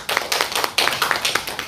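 A church congregation claps together after a prayer, a dense run of hand claps with uneven surges of rhythm over about two seconds, fairly loud and close, with no talking.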